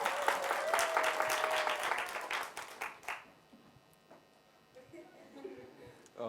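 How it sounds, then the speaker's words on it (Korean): Church congregation applauding as a youth member is welcomed forward during a Sunday worship service, a dense burst of clapping for about three seconds that then thins into scattered claps and quiet murmurs. "큰 박수로 환영하겠습니다."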